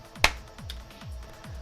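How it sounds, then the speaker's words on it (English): A single sharp hand clap sounds once near the start in an Umineko visual novel scene, loud and crisp against a low repeating background thump. "Then came the sound of someone clapping their hands once."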